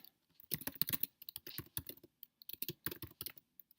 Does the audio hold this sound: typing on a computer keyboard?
yes